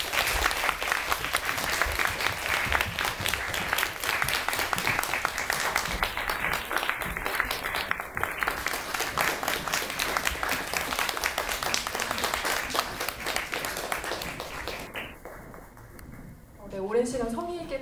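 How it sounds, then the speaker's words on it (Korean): Prolonged audience applause at a Korean film screening talk event, many people clapping in a dense, sustained roar for most of the stretch, tapering near the end as a voice and other sounds come in. "내려오는 길이 조금 길어서 박수를 좀 더 길게 쳐볼까요?"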